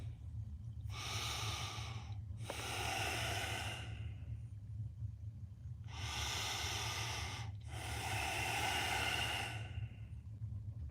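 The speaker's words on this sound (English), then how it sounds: "Now I gotta breathe" Deep, forceful breaths before a cold plunge, four long hissing inhales and exhales in a slow, steady rhythm, close to the mic over a low background hum.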